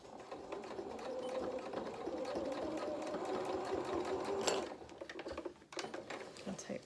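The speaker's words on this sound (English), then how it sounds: "when we get to the edge here, I'm just going to reverse stitch again." Sewing machine reverse stitching through fur fabric on a donkey head plush toy, a steady close mechanical whir that runs continuously for several seconds, then stops with a brief pause before resuming.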